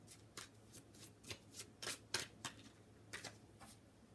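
A deck of oracle cards is shuffled by hand, a series of quick, soft riffling bursts at an uneven rhythm, close and quiet with no talk.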